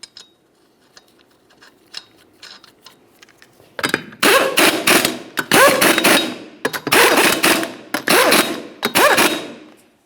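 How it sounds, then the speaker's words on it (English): Impact wrench or power tool spinning 21mm lug nuts onto a rear wheel of a Nissan Altima, several loud rapid rattling bursts in quick succession after a quiet stretch of light clicks. "Start on all 5 of your 21mm lug nuts, we'll bottom them out"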